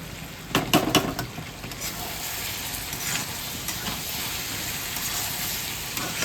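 Chicken curry with fresh coriander leaves simmers and sizzles in a pan, a soft steady hiss with a few sharp clinks and scrapes of stirring near the start.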